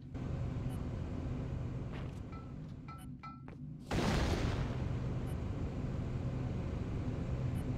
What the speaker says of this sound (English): Just a little explosion.